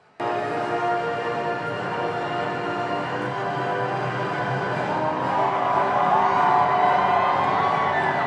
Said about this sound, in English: Tom Cruise was greeted by cheers and applause as he waved at the crowd and posed for photos